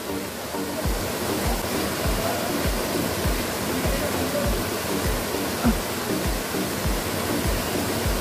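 Imelda Falls rushes in a constant loud roar of falling water, with faint rhythmic thumps beneath the steady wash of sound.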